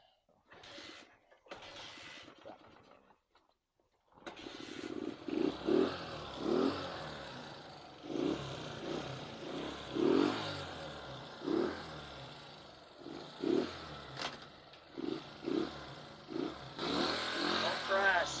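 A 1967 Honda CL90 JDM import motorcycle starting and riding at speed, a small engine revving in repeated surges and shifting pulses, close and loud with people talking over it.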